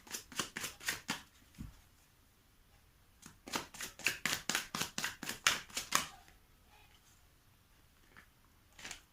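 Tarot cards shuffled in quick riffling bursts, a short run, a pause, then a longer rapid series of crisp snaps, close and clear with no talk over them.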